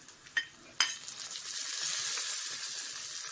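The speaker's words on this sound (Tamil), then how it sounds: "இப்போ காஞ்ச மிளகாய் போட்டுக்கலாம்." Dried red chillies dropped into hot oil, a couple of quick clinks and splashes followed by a steady, bright sizzle that keeps going.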